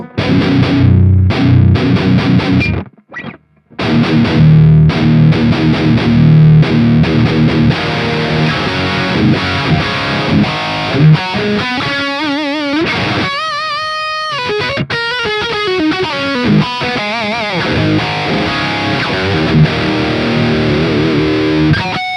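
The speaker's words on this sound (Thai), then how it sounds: "เสียงกีตาร์โป่งลั่นเลย" A heavily distorted electric guitar through a Valeton GP5 amp modeler plays fast riffs and chugging notes, loud and saturated, with a brief pause near the start and no voices.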